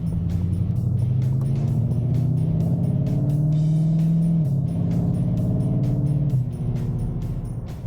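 A Ford Mustang GT500 engine drones steadily from inside the cabin, its pitch rising under acceleration, then dropping abruptly as the transmission shifts down.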